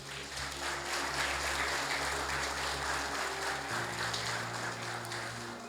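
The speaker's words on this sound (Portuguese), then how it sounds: "Aplauda o Senhor Jesus" A church congregation applauding, a steady broad patter of many hands clapping, with sustained organ or keyboard tones underneath and no talking.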